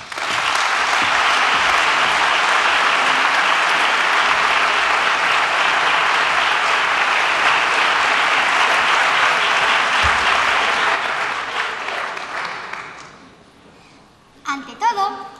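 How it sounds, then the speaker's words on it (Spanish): Sustained, loud audience applause for the Santa María del Llano choir at a concert, many hands clapping steadily for about twelve seconds before fading out, followed by a few voices close by. "os pido un fuerte aplauso para el coro Santa María del Llano"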